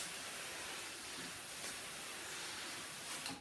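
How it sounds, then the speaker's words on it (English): A steam iron fusing a print onto fabric gives off a soft, continuous hiss, faint and steady from start to finish, with no talking. "but steam is what's going to make it work."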